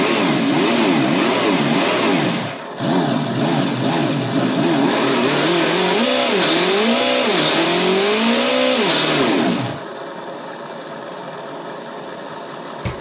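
An RC car's electronic sound module plays a simulated engine that revs repeatedly, rising and falling in pitch for about ten seconds before cutting off, loud and close with no talking.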